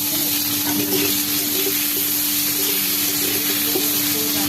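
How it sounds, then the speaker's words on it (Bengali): Potatoes fry in hot oil in a pan, a loud, dense, steady sizzle close up with a constant hum beneath it, continuous for a few seconds with no voices. "আলুগুলো ভেজে নেব।"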